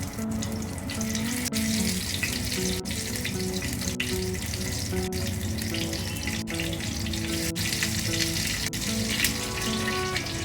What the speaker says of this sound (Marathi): तेल गरम झाल्यावर या तेलामध्ये आपण सर्व भरली वांगी अशी ठेवायची।